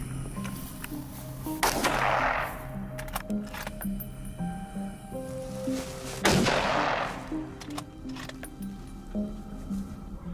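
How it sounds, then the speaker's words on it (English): Air rifle shots aimed at a wild boar from a treetop ambush, two sharp reports a few seconds apart against steady outdoor background noise. "a bullet from his air rifle dropped it instantly"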